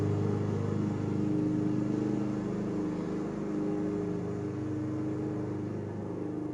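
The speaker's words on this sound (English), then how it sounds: "now is not a good time to be cutting the lawn" A lawn mower runs steadily outside, a constant muffled engine drone heard from a distance, fairly faint and unbroken with no talk over it.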